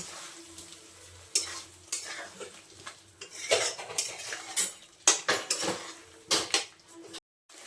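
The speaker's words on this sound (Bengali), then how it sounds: "আলুটা বেশ কিছুক্ষণ আমি মশলার সঙ্গে ভালোভাবে কষিয়ে নিয়েছি" A spatula stirs and scrapes potatoes with spices in a pan with a low sizzle, clanking against the metal in irregular strokes, close and moderately loud.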